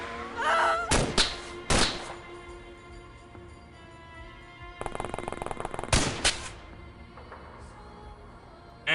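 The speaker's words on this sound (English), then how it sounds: "And that's a rocket launcher." A rocket launcher firing in XCOM: heavy thumping blasts, a pair early and another cluster midway, each sharp and loud with rattling tails, between quieter stretches with no speech.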